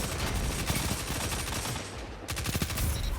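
SMG gunfire in a Destiny PvP match: rapid, dense bursts of automatic fire, loud and close, with a brief pause midway before another sustained burst.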